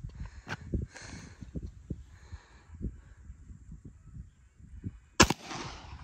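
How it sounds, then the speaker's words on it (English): A single sharp gunshot from a 230 grain FMJ round fired at a steel plate rings out near the end, loud and brief with a short ringing tail, after quiet outdoor rustling and faint bird calls. "230 grain FMJ. And Jason's going to shoot the plate with that"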